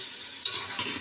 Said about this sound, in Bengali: যে ভাজি হয়ে গেছে তেল দিয়ে ভাজছি, আর এক ডিমটাও ভাজছি